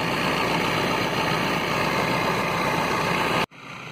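The six-cylinder diesel engine of a JCB JS 200 excavator idles with a steady, even rumble heard up close, then cuts off abruptly just before the end.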